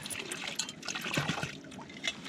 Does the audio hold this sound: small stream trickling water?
yes